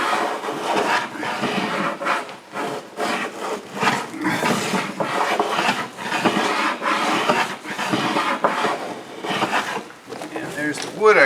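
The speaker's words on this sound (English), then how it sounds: "I'll just give that a few more passes with the plane" Hand plane shaving wood from a boat plank during seam fairing, a run of rhythmic rasping strokes, each pass a short scraping swish, close and steady.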